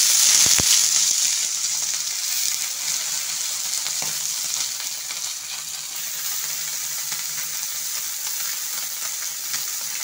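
Puthi fish sizzle steadily in a hot pan for an Assamese home meal, a continuous bright crackle with occasional pops and stirring clatter, close and alone without talk.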